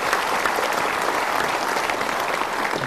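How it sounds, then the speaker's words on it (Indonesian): A room full of people applauding, steady dense clapping throughout at moderate volume, no speech over it. "kita berikan tepuk tangan dulu"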